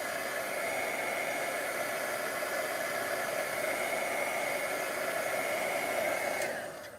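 A heat gun blows a steady, loud whooshing hiss as it dries a watercolor card. The airflow stays constant, then cuts off near the end.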